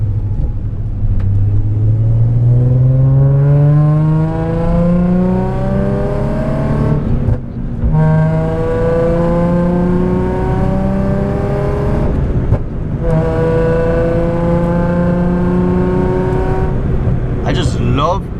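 A car accelerates hard through several gears, its engine rising in pitch then dropping at each shift, with pops around the double-clutch shifts near 7.5 and 12.5 seconds; steady loud rumble throughout.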